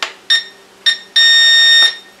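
A Syma X8HC drone transmitter in headless mode gives short electronic beeps, then one steady, continuous high-pitched beep lasting under a second. It is close and clear, with no talking.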